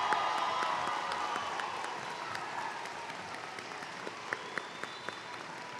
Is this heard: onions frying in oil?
no